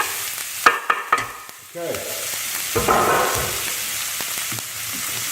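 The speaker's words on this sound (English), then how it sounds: "we've put one piece of onion in there just to make sure that the oil's nice and hot" Onion pieces sizzle in hot olive oil in a pan, with a few close clinks and knocks first, then a steady bright frying hiss that continues to the end; a voice speaks briefly.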